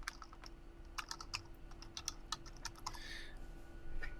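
Fingers type on a computer keyboard, close and fairly quiet, with irregular bursts of crisp key clicks and a brief faster flurry near the end over a faint steady hum.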